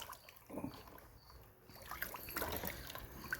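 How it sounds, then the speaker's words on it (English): Compost tea made from organic granular fertilizer being stirred in a bucket of water, a faint swishing and trickling of liquid, quiet and close. "Then I like to give it a little stir"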